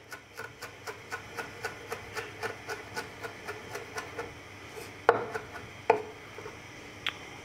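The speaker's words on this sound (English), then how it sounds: "I'm going to quickly pick my rosemary, comme ça, and run a knife through it" A knife chops fresh rosemary on a board in a steady, quick rhythm of about a dozen even taps, close by, followed by a few louder, sharper knocks.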